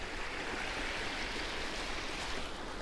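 The St. Louis River flows fast in early spring, a steady broadband rush of moving water filling the whole stretch with no pauses or voices.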